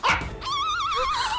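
A dog gives a short, close bark followed by a drawn-out whining yelp that wavers in pitch, all within about a second and a half.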